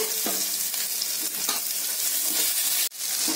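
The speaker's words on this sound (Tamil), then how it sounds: "இப்ப நம்ம வெங்காயம் சேர்த்துக்கலாம். இது நல்லா கோல்டன் இதா வதங்கணும்." Onions sautéing with ginger garlic paste in a pan hiss in a steady, close sizzle, with a few light stirring scrapes scattered through and no voices.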